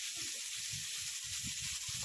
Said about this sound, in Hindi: इसको हम लोग क्या करेंगे, ऑयल के साथ थोड़ा फ्राई करेंगे